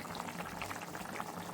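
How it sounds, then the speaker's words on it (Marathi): A pot of spicy cucumber amti curry bubbles on the stove with faint, close, continuous popping and simmering. Each burst is soft and quick, and there is no talk over it. "आपली आमटी छान अशी उकळायला पण लागली"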